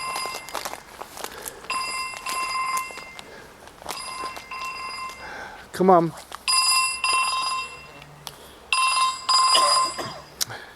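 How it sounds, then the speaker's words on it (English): A mobile phone rings with repeated electronic trill bursts through a church setting, while someone speaks briefly nearby and footsteps shuffle. "Oh, my phone again."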